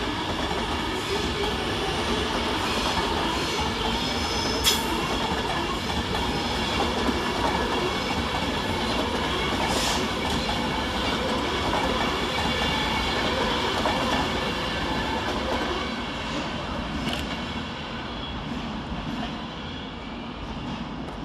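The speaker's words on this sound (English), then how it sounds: "Departing 14 minutes late under the head code 5 Alpha 36 to Wembley Intercity Depot is 390-047." A Class 390 electric train departs London Euston, a continuous rumble of wheels and traction with faint clicks over rail joints throughout, steady and fairly loud inside the station.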